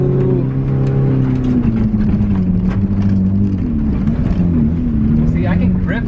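A modified HoopD lawnmower with new tread drones loudly and steadily while being driven, its engine pitch wavering as it accelerates and eases, with voices talking over the running motor.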